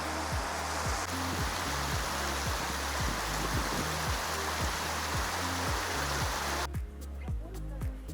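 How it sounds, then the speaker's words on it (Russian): Water gushes steadily from a holy spring of healing silver water in the Altai mountains, a loud, continuous rushing close by with no pause. "Набираем воду у источника святого с серебряной водой"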